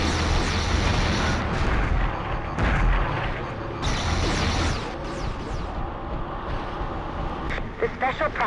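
Booming weapon fire and explosions in the PS1 game Future Cop: LAPD, loud and continuous with heavy low rumble, heard beneath game dialogue.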